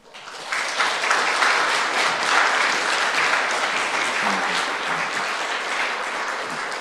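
A church congregation breaks into sustained applause to welcome the pastor, a dense, even wash of many hands clapping that swells in quickly and holds steady for several seconds with no talk over it.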